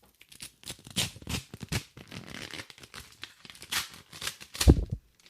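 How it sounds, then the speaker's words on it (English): Paper envelope holding an IRA statement being torn open by hand, close and crisp, with a series of ripping and crinkling bursts and a sharper tear near the end, no talking. "I like the sound of opening mail"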